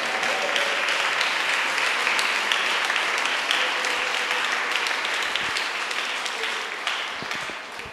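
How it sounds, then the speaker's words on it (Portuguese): Steady, sustained applause from a church congregation honoring Jesus, a broad crowd of clapping hands that holds evenly and fades slightly toward the end. "Dá uma salva de palmas para Jesus"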